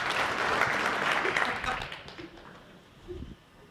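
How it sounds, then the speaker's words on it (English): Brief applause from a lecture audience at a JavaScript talk, a burst of clapping that thins out within about two seconds, followed by quieter room noise and a faint voice. "Yes, you may applause"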